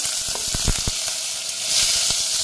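Cumin seeds, fenugreek and curry leaves sizzling in hot oil, a loud continuous hissing crackle with quick popping spits throughout, heard up close with no voices.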